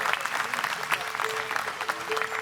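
An audience at a bluegrass festival concert applauds, a dense patter of many hands close up with some voices mixed in.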